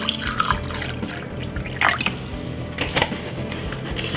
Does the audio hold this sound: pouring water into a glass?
yes